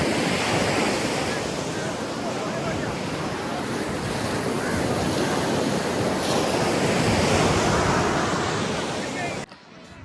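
Ocean waves wash continuously at a beach, loud and close, with heavy wind buffeting the microphone before the sound cuts off abruptly near the end.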